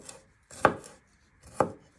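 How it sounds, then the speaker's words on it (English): Kitchen knife chopping food finely on a cutting board while making pork paprika, two distinct close chops with a soft scraping rush around each, separated by brief silence. "You want to get it really fine, so you're just chopping it, just like that."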